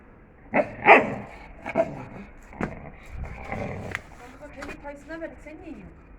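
A young Kangal dog guarding a bone gives a few sharp, loud barks and some growling near the start, with a person speaking intermittently afterward.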